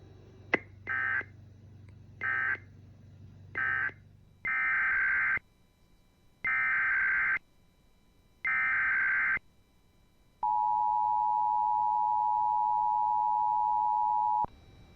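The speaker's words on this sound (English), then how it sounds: "The following tones will conclude this monthly test of the Global Weather and EAS Society's" Emergency Alert System relay network test tones: a series of short paired-tone bursts, then three longer tone blasts, and finally a long steady single tone, clean and moderately loud with silence between.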